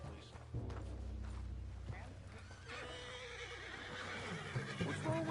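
Horse in the Red Dead Redemption 2 game whinnying loudly amid hoof clops and creaking tack, with speech also present.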